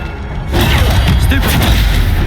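Levioso spell cast in the video game Hogwarts Legacy: a sudden loud magical burst that swells into a dense, sustained rumbling whoosh lasting about two seconds, with no talk over it.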